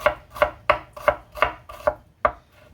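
Knife chopping through an onion on a cutting board, about seven sharp, evenly spaced cuts in a steady rhythm, close and clear with no talking.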